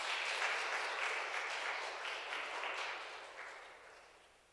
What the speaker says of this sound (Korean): 박수로 수녀님 이제 환영하겠습니다